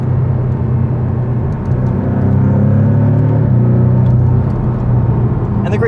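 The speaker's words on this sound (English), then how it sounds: "Shifts so fast, the PDK." Porsche 718 Cayman from 2019 with a PDK gearbox driving along, a loud steady engine drone heard from inside the cabin with rising and shifting tones as gears change.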